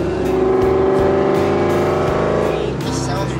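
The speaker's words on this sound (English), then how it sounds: "this is still my favorite car sound" Engine of a 2003 Ford Mustang Cobra rumbling and revving steadily, a loud, deep, continuous drone with slight throttle changes, heard from inside amid traffic.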